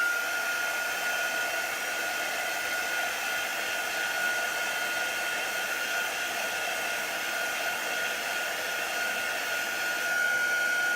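Hair dryer blowing steadily on chalk paint over paper, a constant even whoosh held at the same close, loud level for the whole stretch with no talk.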